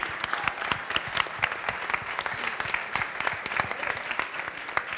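An audience at a tech conference quiz show claps steadily and fairly loudly for several seconds, a dense patter of many hands with no voices standing out.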